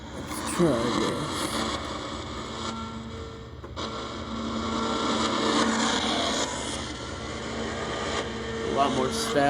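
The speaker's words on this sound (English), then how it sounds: "A lot more static down there." Harsh, crackling ghost box radio static fills the whole stretch, with whistling sweeps and shifting hiss rising and falling in loudness.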